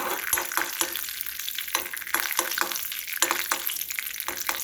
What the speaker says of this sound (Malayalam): നല്ലതായിട്ട് വറുത്തെടുക്കണം